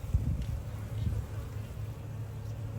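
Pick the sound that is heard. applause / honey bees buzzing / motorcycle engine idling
honey bees buzzing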